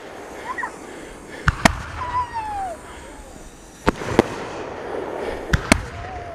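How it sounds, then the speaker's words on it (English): Fourth of July consumer fireworks from a backyard cake and rack show burst in several sharp, loud cracks, some in quick pairs, with a rising whistle and crackling between bangs over a steady outdoor hiss. "A lot of fireworks for 2-man show, really."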